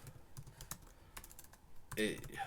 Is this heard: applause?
no